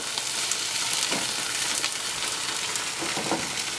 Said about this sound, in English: from here we're going to actually add in our tomatoes now